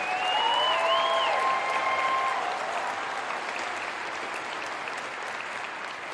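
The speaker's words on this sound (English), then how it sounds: "can we have a big round of applause, not just for our presenters, but all of the developers that helped bring Overwatch Heroes to life?" Audience applause for the presenters and developers of Overwatch Heroes at a game showcase, a dense sustained clatter of many clapping hands that starts loud and tapers slightly over six seconds, with a brief whistle or tone rising early on.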